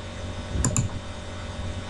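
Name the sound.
computer keyboard key press (enter)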